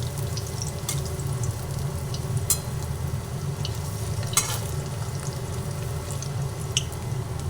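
Cabbage muitha dumplings frying in oil in a pan, a steady crackling sizzle with occasional sharper pops and light stirring clinks, close and continuous with no talk.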